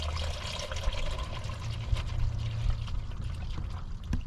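Engine oil drains from a Subaru Outback Wilderness with the 2.4 turbo into a pan, a steady, close pouring trickle that runs without a break for several seconds.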